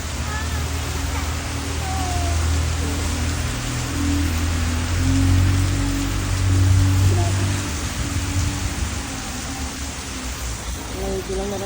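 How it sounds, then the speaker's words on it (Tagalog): Heavy rain pours down during a tornado storm in the UK, a dense, constant hiss of downpour that swells and eases slightly, with faint voices and low rumbles underneath. "Sobrang lakas ng ulan na to."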